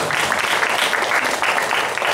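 Dense, loud audience applause in a Korean church-style gathering, a continuous wash of many hands clapping close by without pause.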